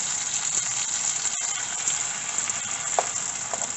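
Tomatoes sizzling in a pot while cooking down for a salty pasta: a steady, even hiss at moderate level, with a few faint clicks and pops, and no voices.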